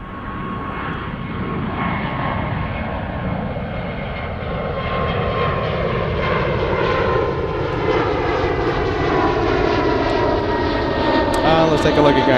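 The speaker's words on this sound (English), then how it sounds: "Okay, so a lot of takeoffs. Yes, we have a lot of big planes." A big airliner takes off at Zurich airport, its engines a loud steady roar with a slowly shifting whine as it climbs away, continuous throughout, with a person talking faintly over it.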